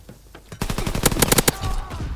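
Gunfire in Call of Duty: WW2 comes as a short, rapid burst of close, loud shots in quick succession, about a dozen cracks packed into one second, fading into a faint tail.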